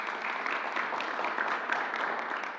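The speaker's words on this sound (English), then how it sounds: "Let's give them a round of applause." Audience round of applause at an outdoor public announcement in Harlem, a steady, moderately loud wash of clapping from a gathered crowd lasting a few seconds.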